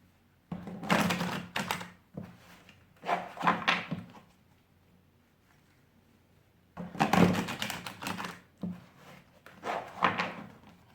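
Bursts of riffling card shuffles, a few seconds each, separated by quiet pauses; close and fairly soft, no talking.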